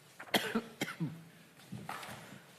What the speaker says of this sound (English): I've obviously got the CEO's cough now.